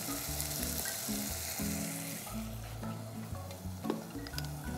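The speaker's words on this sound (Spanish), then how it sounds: "para el marmitaco a mí me gusta caramelizar mucho la cebolla" Onions caramelizing in a hot pan with plenty of vegetables for a Basque marmitaco stew, a steady bright frying hiss with occasional stirring clinks and scrapes, close and continuous.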